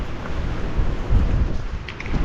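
Gusting wind tearing through trees beside a Ford Galaxy camper in wintry Scotland, a steady broad rush with a few stronger buffets, close and loud, with no voices.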